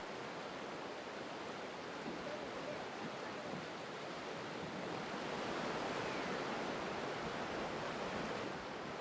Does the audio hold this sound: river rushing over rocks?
yes